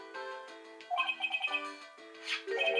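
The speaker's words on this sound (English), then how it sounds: "Phone." A phone rings in the video game Phoenix Wright: Trials and Tribulations, with a chirpy electronic ringtone of rapid repeated trilling pulses in a few bursts, loud and clear with no talking.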